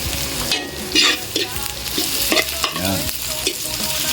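A big heap of onions frying in a pan, stirred as they cook: a steady close sizzle broken by scraping stir strokes, with one short spoken word over it.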